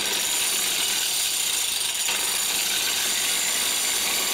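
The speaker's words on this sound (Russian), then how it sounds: "Запускаем болгарку." An angle grinder at medium speed sharpens the teeth of an old circular saw blade, giving a loud, steady, harsh grinding hiss that runs unbroken and close throughout.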